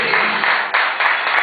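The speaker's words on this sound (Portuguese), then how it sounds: "Você pode aplaudir o Senhor" Congregation applauding the Lord during a Portuguese-language church sermon on prosperity, a short dense burst of clapping heard alone and fairly loud.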